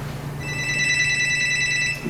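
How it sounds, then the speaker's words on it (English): A telephone rings in a steady electronic trill lasting under two seconds, clear and close with no voices over it. "Your device is ringing."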